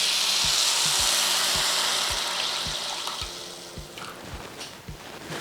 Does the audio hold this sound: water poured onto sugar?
yes